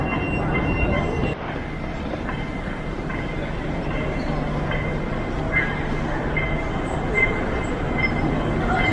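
A train rumbles steadily into a station, its continuous low roar with faint clicking and a light metallic squeal heard nearby throughout, without talk.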